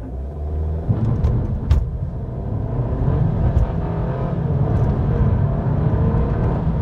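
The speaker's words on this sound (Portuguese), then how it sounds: "quero mostrar para vocês o delay do acelerador. Pisando fundo em 3, 2, 1" An Audi A3 Sedan Performance Black accelerates hard from a standstill, its engine and drivetrain building into a loud, steady low roar heard from inside the car, with no one speaking.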